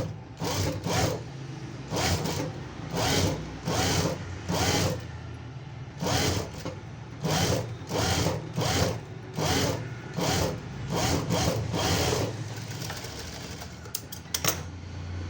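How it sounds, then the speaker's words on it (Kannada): A sewing machine edge-stitches a blouse in repeated short mechanical bursts with brief pauses between runs, loud and close with no talking. "ಈಗ ಇದನ್ನು ಈ ರೀತಿ ಟರ್ನ್ ಮಾಡಿಕೊಂಡು ಎಡ್ಜ್ ಸ್ಟಿಚ್ ಹಾಕ್ಬೇಕು"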